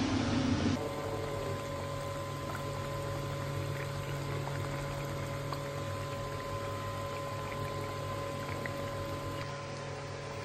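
Mustard curry of foli fish (shorsher jhal) simmering in a pan on a gas flame, a steady soft bubbling hiss that stays constant and close throughout, with no voices.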